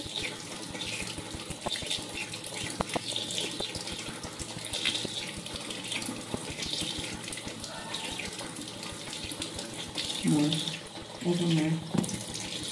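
Tap water runs steadily into a sink during washing, a continuous close splashing rush with occasional clinks and light handling noises throughout, and brief low voices near the end.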